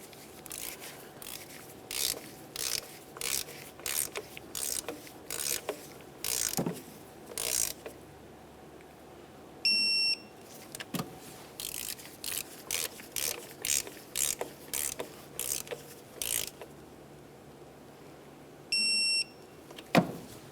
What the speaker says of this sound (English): Once you have all of them bottomed out, continue on with your torque wrench.